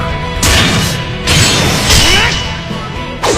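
Explosions in an animated fantasy film sound as a series of loud booming crashes, three or four heavy blasts with rushing debris and whooshes in quick succession.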